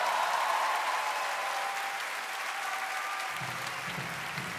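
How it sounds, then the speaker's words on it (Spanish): A concert audience applauds the band at an unplugged show, dense steady clapping throughout that eases slightly toward the end, with faint crowd murmur. "un fuerte aplauso para toda la banda"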